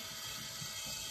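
A pump dispenser on a bottle of epoxy resin being pressed, giving faint repeated mechanical clicks and creaks with no voice.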